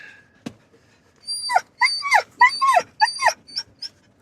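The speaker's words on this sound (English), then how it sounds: "Puppy dog." A puppy in a vehicle on a road trip to Yellowstone and Grand Teton whimpers and yips in a run of high, rising cries, close and loud, after one sharp sound, with no speech.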